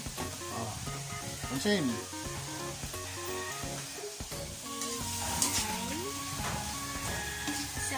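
Pork meat frying for pinakbet after onion, garlic and ginger, a steady sizzle with stirring in the pan, under music and a voice speaking.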